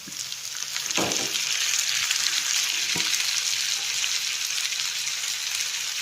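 Chopped tomato sizzles steadily in a hot pan as filling for Kerala-style beef puffs, a continuous close frying hiss with a couple of soft stirring knocks and no voices.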